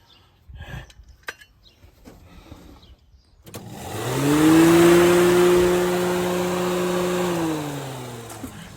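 A Holden Torana engine, just back running after a fuel pump repair, bursts to life after a few clunks and revs up loudly, holding a steady high drone before easing slightly, heard up close.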